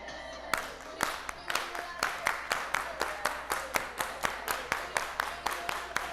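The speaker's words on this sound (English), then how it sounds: "We're gonna do the fast clap." A live audience claps in unison at a conference keynote, a brisk run of sharp, evenly spaced claps gathering pace after a brief pause, loud and close.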